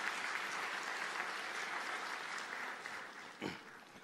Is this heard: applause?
yes